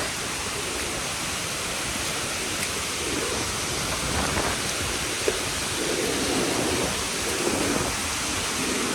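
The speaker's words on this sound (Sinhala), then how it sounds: "ඉතින් අපි දැන් ගොඩක් දුරට ඇල්ල ළඟට ඇවිල්ලා තියෙන්නේ." Bomburu Ella waterfall swollen after heavy rain sends out a steady, dense roar of rushing water, loud and unbroken throughout, with no voices.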